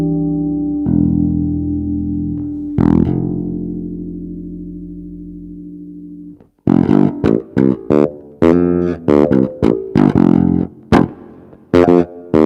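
Electric bass guitar likened to a Fender, played through an amplifier: a sustained low note rings out and decays, a second struck note follows, then a run of short, punchy plucked notes in an uneven rhythm, close and loud with no talking.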